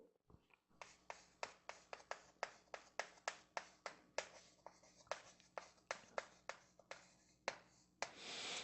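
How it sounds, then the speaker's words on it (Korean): Writing on a board during a real-estate law lecture, with a quick series of about twenty sharp taps and scratches in an irregular rhythm, close and fairly quiet, with no talk over it. "간단하게 한번 제가 써볼게요."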